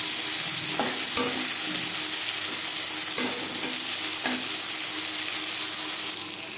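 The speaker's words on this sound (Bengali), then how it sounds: "মাছ আমি হালকা করে ভেজে নেব এক পাশ ভাজা হয়ে গেলে অপর পাশ কিনতে দেবো" Steady, loud sizzling of fish frying in hot oil, with a few brief clinks of a utensil stirring in the pan.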